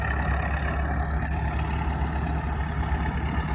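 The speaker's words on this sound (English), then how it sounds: "It's a D7 Caterpillar engine." A Caterpillar D7 engine runs at a steady, loud, low rumble throughout, with no talking over it.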